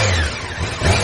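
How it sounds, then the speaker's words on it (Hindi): A motorbike is kick-started and its engine catches at once, a loud, close burst of mid-pitched engine noise that briefly rises in a rev. "उसने हड़बड़ाते हुए बाइक पे किक मारी।"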